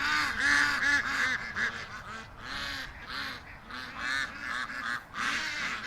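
A flock of adult ducks back from the swamp calls out in loud, overlapping honking quacks, repeated bursts close at hand with no pauses between them.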